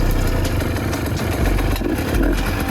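An adventure motorcycle engine runs close by after being started, a rough, steady idle with clattering mechanical pulses and slight revving, no talk.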